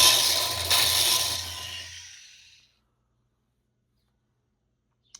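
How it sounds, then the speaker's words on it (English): A valve seat grinder driven by a drill grinds a valve seat on a Pontiac 400 engine, a loud abrasive rasping whir up close that fades out over about two seconds and leaves near silence. "Valve seat grinder."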